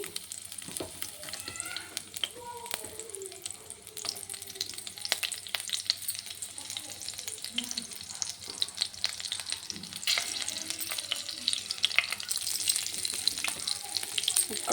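Green chillies and tempering spices sizzle and crackle steadily in hot oil for the whole stretch, with occasional stirring clinks and scrapes close by.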